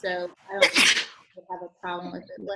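A single sharp sneeze from a participant during a staff training call on video, a loud burst between stretches of ordinary talk.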